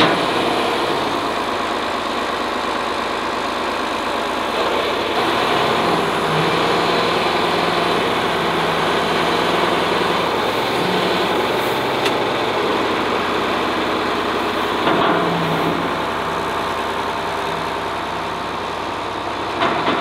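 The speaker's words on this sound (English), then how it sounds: "we're gonna use the real tractor, load up all the hay, and then dump it in Hudson's trailer" A real farm tractor's engine runs steadily throughout while hay is loaded into a trailer, a continuous, fairly loud mechanical drone with occasional clunks, alone without talk.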